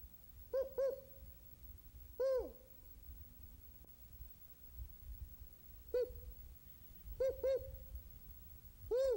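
A person imitates the spotted owl's four-note hooting call, with short groups of low hoots spaced several seconds apart, faint and distant over a quiet outdoor hiss.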